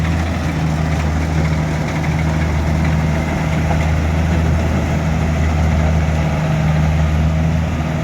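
A rice combine harvester's engine running near and loud, a deep steady rumble holding constant with little change in pitch.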